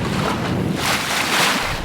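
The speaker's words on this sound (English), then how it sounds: "It is windy actually. It is quite windy." Strong wind buffets the microphone aboard a sailing dinghy on open water, a loud, continuous roaring rush with surging gusts and no voices.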